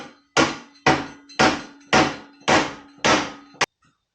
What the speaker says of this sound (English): we're going to go ahead and guide it in with a rubber mallet